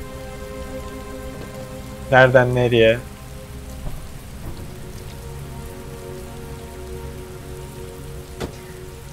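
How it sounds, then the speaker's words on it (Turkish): Heavy rain pours steadily in the video game Heavy Rain, a constant close hiss of drops on surfaces. A short spoken line cuts in early. "Heavy Rain, gördüğünüz gibi sağanak yağış, ağır yağmur, sağanak yağış olarak çevirebiliriz."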